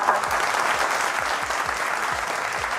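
Steady applause from a studio audience during a Kurdish game show, dense and even throughout with a few sharper claps standing out, no voices over it.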